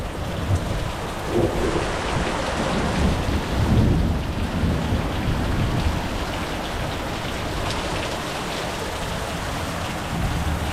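Heavy downpour in a thunderstorm, a dense continuous hiss of rain with low rolling thunder rumbling through it, steady and close with no voices.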